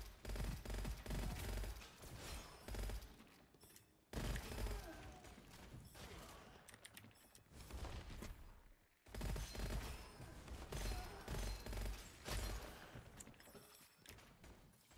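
Sustained automatic gunfire in the co-op shooter video game Gunfire Reborn comes as dense rattling bursts in three long stretches, each dropping off briefly before resuming, with faint low-level chatter among the firing.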